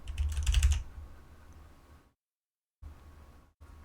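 Rapid clattering keystrokes on a computer keyboard, a loud burst of typing at first, then quieter scattered taps broken by brief silent gaps.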